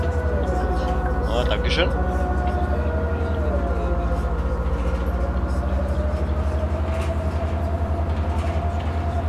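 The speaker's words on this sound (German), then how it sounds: "War gerade der Rettungswagen unterwegs." In the Bus Simulator 16 driving game, an ambulance siren wails with a slowly shifting tone over the steady low rumble of an articulated bus engine, and someone talks briefly over it.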